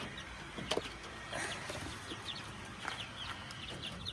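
Soft clucking from several hens nearby, scattered short calls over a quiet rustling background.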